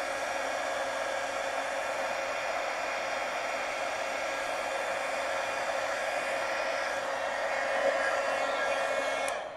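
A handheld heat tool blows hot air over a junk journal page to dry it. It gives a steady, close airy roar that holds level throughout, with no voices.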